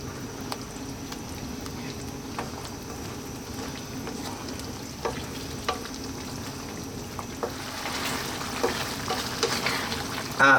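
Spinach mushroom cream sauce bubbles over medium heat with a soft, continuous sizzle, punctuated by occasional spoon knocks, then a louder stir near the end.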